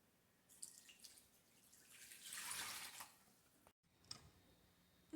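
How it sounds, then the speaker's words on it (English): Water pours steadily into a large bowl of layer cake batter made with rice flour, tapioca starch and sugar, swelling to a splashing peak midway before a brief drop-out and a few trailing drips, close and fairly quiet. "And then we're going to add 8 cups of water."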